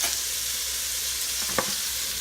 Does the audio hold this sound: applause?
no